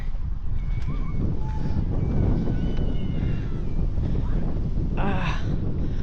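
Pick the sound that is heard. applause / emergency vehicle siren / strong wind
strong wind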